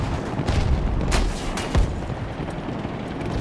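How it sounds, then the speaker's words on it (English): Submachine gun fire in Battlefield 2042, a handful of sharp, loud bursts cracking out over a dense, rumbling battlefield din. "Let me try this other submachine gun."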